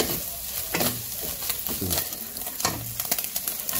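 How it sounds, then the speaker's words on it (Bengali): Eggs frying in a pan over a home stove in a Bangladeshi village kitchen, a steady close sizzle with scraping stir strokes recurring every second or so, no talk. "ডিমগুলো ভেজে নিতেছি।"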